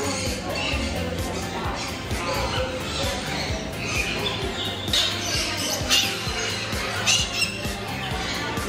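Parrots at Parrot Mountain and Gardens, a bird park in Pigeon Forge, keep up a busy run of squawks and chatter close by, with people talking quietly underneath.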